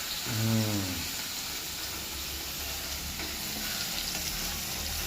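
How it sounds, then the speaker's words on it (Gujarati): Onions and curry leaves sauté in a pan with a continuous soft sizzle and hiss, with a brief stirring scrape near the start and an otherwise steady low bubbling fry. "પછી આપણે આ ડુંગળી નાખી દઈએ. હા બરાબર સાતરી લેવાનું."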